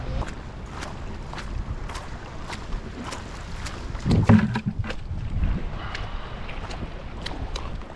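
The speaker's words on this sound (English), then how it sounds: "It's pretty windy, tide's super high." Wind gusts across an open public fishing pier by the sea at high tide, a steady rushing roar with buffeting on the microphone and a few louder thumps midway, no talking.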